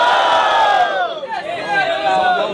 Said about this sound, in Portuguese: quem gostou da rima do MC Nego Drama faz barulho mão pro alto